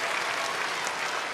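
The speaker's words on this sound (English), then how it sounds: "Crowd's gone nuts." Tennis crowd at a United Cup 2025 match clapping and cheering, a dense, continuous burst of loud applause filling the whole moment.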